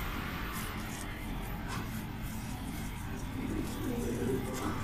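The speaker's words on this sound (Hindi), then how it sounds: "तो ये है जनाब हमारा नया कबूतर" A pigeon coos close by in soft, low, repeated throaty murmurs over a faint steady background.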